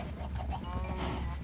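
Cows in the video game Minecraft give low, short mooing calls among other faint game sounds, heard briefly and moderately quiet with no talk.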